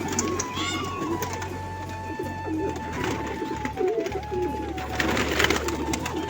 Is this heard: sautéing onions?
no